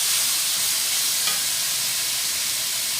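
Onions sizzling in a pan, a steady loud frying hiss filling the whole moment with faint stirring underneath and no talk.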